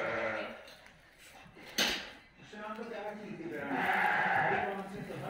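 Dorper sheep bleating at a sheep farm, a couple of wavering bleats close by, mixed with people talking and a sharp clatter midway.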